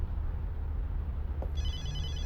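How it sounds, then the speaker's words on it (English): A phone in an anime episode starts ringing midway with a bright, trilling electronic ring over a low background rumble, following a brief click, with no talking. "The second I'm out the door, my phone starts ringing."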